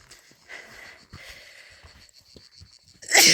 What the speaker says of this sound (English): The sun ain't doing no justice to this sneezing child.